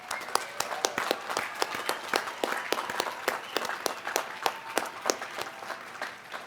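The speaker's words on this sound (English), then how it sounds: "Please give them a round of applause." Scattered applause at a college commencement ceremony, fairly distant and soft, with individual sharp claps standing out in an irregular rhythm across the whole stretch.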